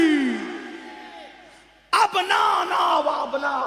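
A large religious gathering roars back slogans in unison at a Shab-e-Baraat sermon, a sudden loud swell of chanting voices answering after a preacher's drawn-out call.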